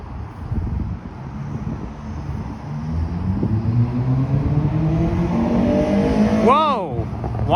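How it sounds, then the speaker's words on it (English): A loud car engine roars past on a city street, rising to a sharp revving peak as it goes by, over steady traffic and wind noise outdoors. "Why does this car have to be so loud?"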